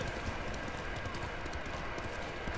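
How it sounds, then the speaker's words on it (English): A horse's hooves thud steadily in Ghost of Tsushima as it moves off, a continuous rumbling clatter mixed with broad wind-like noise, fairly loud and without pauses. "Hey horse, come here, why are you running away?"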